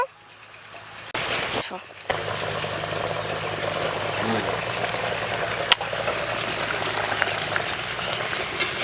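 Water boils in a covered pot steaming cut cauliflower, a steady bubbling hiss that starts after a brief quiet moment and continues evenly, close and moderately loud.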